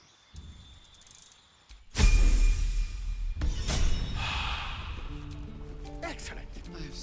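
The Shatter spell cast in Baldur's Gate 3: a sudden loud crashing burst breaks in after quiet, then trails off in ringing, glassy decays, with other game sounds around it.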